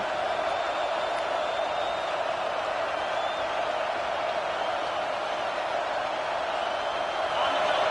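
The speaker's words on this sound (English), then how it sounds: "Decibels rising as the crowd gets behind this defense on third down" Steady, dense roar of a stadium crowd at a USC v UCLA college football game, loud and sustained throughout, building during a third-down defensive play, with no clear talk over it.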